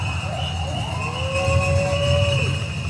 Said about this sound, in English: There's a police car and then like 5 police motorcycles